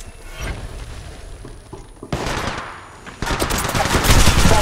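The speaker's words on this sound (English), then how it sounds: "Yeah, getting shot at." Loud, close gunfire in the mobile game Apex Legends Mobile, with rapid automatic bursts and heavy impacts that build into sustained firing.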